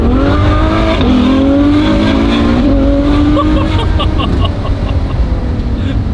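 A Ferrari F12 N-Largo V12 engine revs loudly close by, its pitch climbing and holding in a sustained roar that stays dense and powerful throughout.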